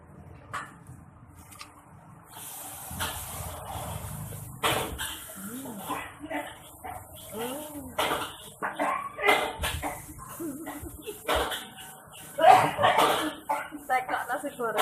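Repeated coughing from a man cooking nasi goreng at a street stall, several harsh bursts spread among lively chatter and kitchen clatter, fairly close.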